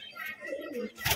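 Kalshira pigeons coo softly in a low, rolling murmur near at hand, with a brighter burst of sound near the end and a little faint background noise.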